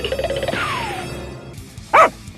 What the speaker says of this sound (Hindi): अरे यार, ये कुत्ते क्यों हमारे पीछे पड़े हैं?